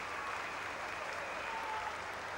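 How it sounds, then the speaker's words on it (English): A stadium crowd at an athletics meeting in Birmingham breaks into steady applause around the long jump pit, heard from a distance. "Now that's produced a ripple of applause around the long jump pit."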